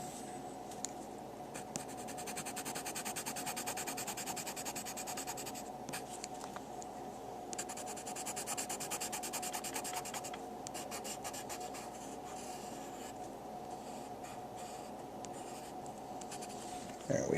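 A pink Faber-Castell colored pencil scratches steadily across paper while coloring in the lips of a drawn face, a close, continuous soft rasp with no talking.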